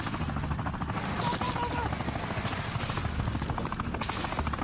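A Sikorsky UH-60 Black Hawk helicopter throbs with a steady rotor thump in a dense urban battle scene, loud and close, with sharp bursts like gunfire and faint voices underneath.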